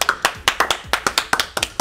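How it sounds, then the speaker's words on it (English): A small group claps together in a quick, slightly uneven rhythm, sharp hand claps following one another for a couple of seconds, close by with no talking. "We've all learned how to clap today."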